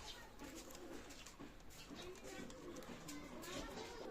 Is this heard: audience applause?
no